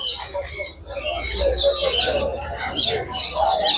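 Many caged birds at a bird market in Mirpur-1 chirp and tweet in a dense, busy chorus close by, with some soft cooing and low background rumble.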